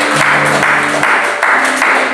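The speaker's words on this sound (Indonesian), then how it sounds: "Berikan tepuk tangan bagi Yesus." A church congregation claps together during a worship service in a Jakarta apartment, a steady wash of applause with faint speech mixed in.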